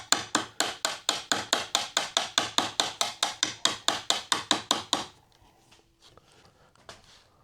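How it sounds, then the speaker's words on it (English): A chisel struck into a rotten wooden door jamb: a fast, even run of about twenty sharp close taps for five seconds, then near silence with a few faint knocks. "I may just do the last one with a chisel in case you don't have a router"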